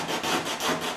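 Sandpaper rubbed over wood to round over an edge and knock down loose fibers, part of an interior modification job: a steady, close, rhythmic scratching of back-and-forth strokes with no voices.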